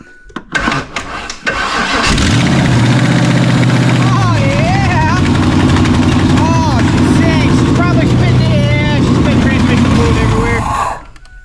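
A 1996 Ford Explorer with a swapped body cranks and catches after a couple of seconds, then runs at a loud, steady idle with whining tones close by. A voice speaks near the start.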